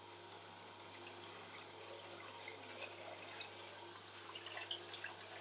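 Water pouring into a juicer being cleaned with a fill of cold or hot water, a steady faint splashing trickle with a low constant machine hum underneath, with small drips near the end.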